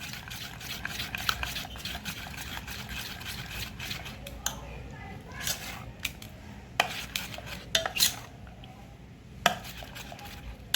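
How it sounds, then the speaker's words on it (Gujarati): Besan khaman batter is beaten in a bowl, making soft, fairly quiet sloshing strokes and irregular clicks of a spoon or whisk against the rim. "ખમણનું બેટર જેટલું આપણે ફેટીશું એટલા ખમણ આપણા પોચા"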